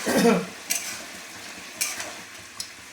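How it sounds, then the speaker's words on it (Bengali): Egg curry simmers in a pan with a soft sizzle and bubbling, punctuated by three brief spatula scrapes, after a short louder burst of clatter at the very start. "আর এখানে ডিমের কষাটা ফুটছে"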